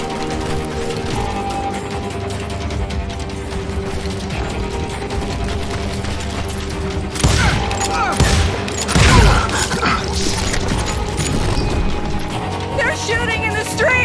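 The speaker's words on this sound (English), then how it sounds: "They're shooting in the street!" Gunfire in a Western town street from Call of Juarez Gunslinger, rapid overlapping shots and crashes under a steady music bed, growing heavier and louder in the second half.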